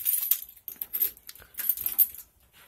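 Keys jangle and click as they are inserted into the ignition of a 2007 GV650 motorcycle that won't start, a few short metallic rattles close to the microphone.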